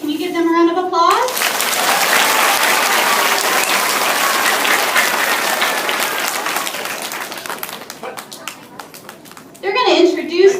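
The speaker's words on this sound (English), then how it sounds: "Can you give them a round of applause?" After a short spoken introduction, an audience breaks into warm applause for high school students, clapping swelling and then thinning out over several seconds before a voice speaks again.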